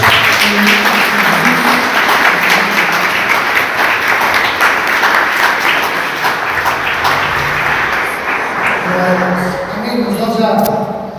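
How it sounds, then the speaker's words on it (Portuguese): A church congregation applauds loudly in a sustained, dense wash of clapping at a Brazilian evangelical service, holding steady for several seconds with a sung or spoken tone riding faintly through it. "Você pode aplaudir o Senhor bem forte"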